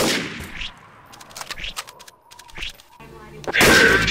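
Sharp gunshots ring out in Counter-Strike: Source on the Roswell map, scattered single cracks spaced irregularly, ending in a louder burst of fire.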